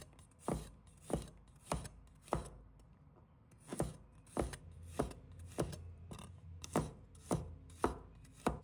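A knife slicing garlic cloves on a cutting board gives a steady series of about fourteen crisp, evenly spaced taps, quiet and close.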